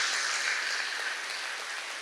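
Applause at a spiritual satsang gathering, heard as a faint, steady wash of many clapping hands, dense and continuous, fading slightly toward the end with no voices.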